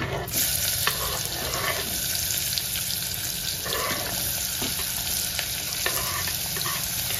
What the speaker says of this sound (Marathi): हिंग घालायचं, हिंग पण भरपूर घालायचं, आणि हा कांदा आपण चिरून ठेवलेला आहे तो घालायचा।